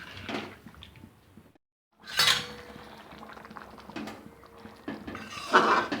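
A spoon scrapes and clinks against a metal pot while kundru (ivy gourd) masala gravy with added water is stirred, giving several close, clattering bursts separated by short pauses.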